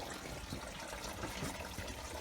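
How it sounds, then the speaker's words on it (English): Engine coolant draining from the drain plug of a Mercedes W163 ML320, a steady continuous trickle and splash of liquid, fairly quiet and close, with no talking. "there's the water coming out"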